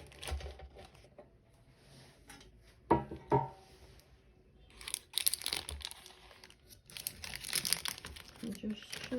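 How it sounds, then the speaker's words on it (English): Parchment paper crinkles and rustles around a freshly baked oil-based red velvet cake. Crisp handling noises come in bursts, with sharper crackles near the middle and denser crumpling toward the end. "And just shove it in this parchment paper."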